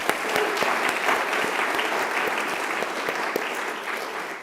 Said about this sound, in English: let's give Megan one more round of applause